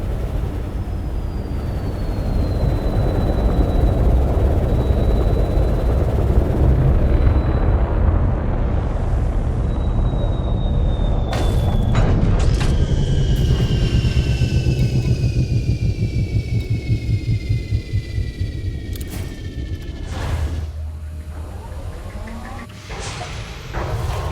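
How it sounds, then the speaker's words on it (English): A spaceship in Elite Dangerous settles onto a low-gravity crater edge with landing gear deployed, a loud sustained thrust rumble with whining tones, then clunks and thumps as it touches down. "Landing gear deployed."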